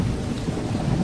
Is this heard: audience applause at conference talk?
no